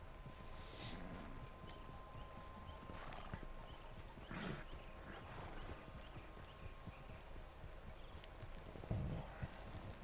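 Horse hooves clip-clop at a steady walking rhythm while riding in the Red Dead Redemption 2 video game, with occasional neighs, heavier thuds near the end and a low game ambience underneath.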